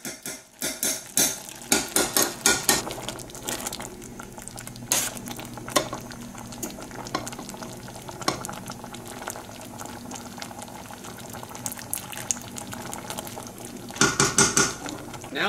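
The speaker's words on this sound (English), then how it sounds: "Then I will stir it all around." Butter beans simmering in a pot at Christmas, a steady bubbling boil underneath close clinks and scrapes of a spoon stirring against the pot, busiest at the start and again near the end, with no talking.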